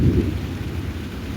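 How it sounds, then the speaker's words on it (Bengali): Deep, rolling thunder rumbles loudly and continuously during rain, with a heavier burst at the start and the rumble carrying on to the end. "মেঘ ডাকছে"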